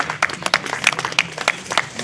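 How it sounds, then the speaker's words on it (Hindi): Applause from an audience at a swearing-in ceremony of a wholesale and retail grocery committee in Bundi, with scattered claps forming a steady, moderately close patter over about two seconds. "ताली बजाकर सब स्वागत करें।"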